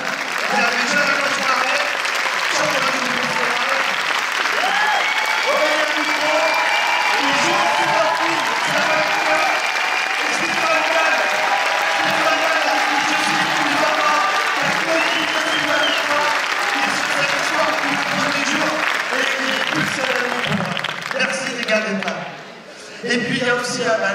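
A cinema audience applauds loudly at the Paris premiere of the film Tout là-haut at Le Grand Rex, with long, dense clapping and crowd noise that runs on with voices mixed in before tapering near the end.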